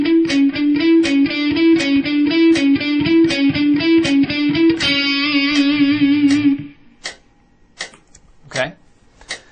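Distorted electric guitar plays a fast solo line of rapid, evenly picked notes in a steady, tight rhythm, loud and close, with no talking; the run ends abruptly and only a few scattered clicks and short noises follow.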